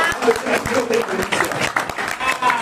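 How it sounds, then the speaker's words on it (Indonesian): Audience applause at a business seminar, steady clapping throughout with a voice speaking over it. "Kita tepuk tangan untuk Best Alfred."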